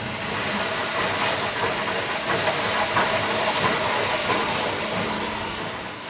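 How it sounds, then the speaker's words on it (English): Heavy press machine moulding rubber nuggets into tennis balls, a loud continuous steam-like hiss over a low mechanical chug, steady throughout and fading slightly at the end. "can you hear the sound? It sounds like a steam train just chugging along."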